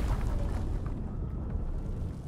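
Fiery poison explosion ignited in Divinity Original Sin 2, a deep rumbling burst that rolls on steadily for a couple of seconds at moderate loudness, with no voice over it.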